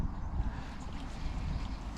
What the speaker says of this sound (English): Still got this wind to contend with as well